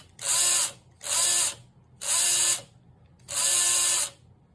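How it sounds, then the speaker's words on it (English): Electric motor of a scratch-built Indy car model whines up in four loud, even bursts, each lasting under a second with short quiet gaps between, close by and with no talk. "It's got a lot of torque in this motor."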